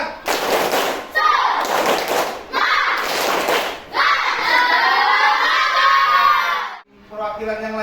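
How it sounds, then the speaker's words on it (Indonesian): Primary school pupils in a classroom perform a rhythmic spirit clap together, loud sharp hand-clap bursts mixed with children shouting and cheering in unison, filling the room close by. "Tepuk semangat."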